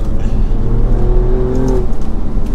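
A 2024 Alfa Romeo Giulia Quadrifoglio sports sedan engine roars loudly up close on a chilly mountain road, its pitch climbing steadily as it accelerates hard, then easing off near the end.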